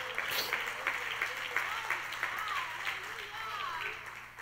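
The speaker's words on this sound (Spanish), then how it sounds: "Dale ese aplauso a Dios." A church congregation applauds in a soft, steady patter that sits under a voice speaking throughout.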